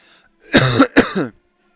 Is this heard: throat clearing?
yes